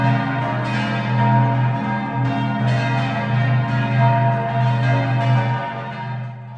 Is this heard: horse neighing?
no